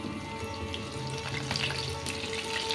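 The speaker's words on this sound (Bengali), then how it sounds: "এইভাবে সব বড়াগুলো আমি ভেজে নেব।" Masoor dal and kachki fish fritters fry in oil with a steady, close sizzle and fine crackle, continuous and unbroken throughout.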